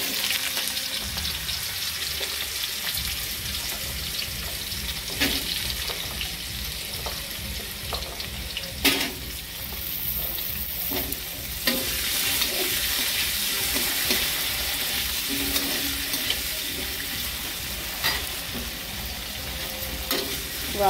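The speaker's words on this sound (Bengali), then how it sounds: "এবার আলুটা ভাজা ভাজা করে দিই" Diced potatoes fry with cumin in a pan, a steady close sizzle running throughout with repeated clicks and scrapes of stirring, and no talking.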